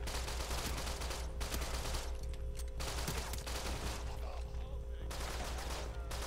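Rapid gunfire from The Bourne Conspiracy video game, with dense bursts of shots running almost continuously at a steady loud level.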